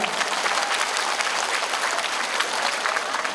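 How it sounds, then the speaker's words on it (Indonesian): Dense, sustained audience applause at a community gathering in Taipei, Taiwan, many hands clapping at once in a steady wash with no talk over it. "Kasih tepuk tangan buat beliau."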